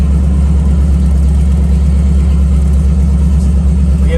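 A 1969 Camaro fitted with a T56 gearbox and new gears cruises on a road test, its heavy engine droning loud and steady from inside the car with constant low rumble and road noise.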